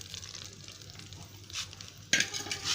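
A tadka tempering for masoor curry fries and sizzles in a pan with soft stirring and scraping, then bursts into a louder, brighter sizzle partway through as it is poured, close and without talk.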